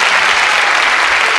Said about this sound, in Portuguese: uma salva de palmas para o Goiano.